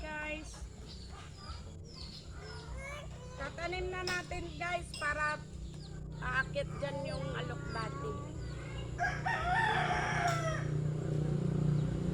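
A rooster crows repeatedly nearby in a garden, its drawn-out calls layered over steady background noise and other clucking.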